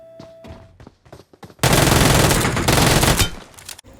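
Uzi submachine gun fired in BGMI (PUBG Mobile), a loud sustained automatic burst of about two seconds after a few scattered quieter shots, with isolated shots trailing off.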